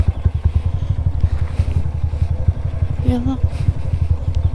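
A motorcycle engine idles and putters with a steady rapid rhythm while riders park on an ATV trail at Amador Valley in Sukabumi, close and loud under people talking, with some clatter mixed in.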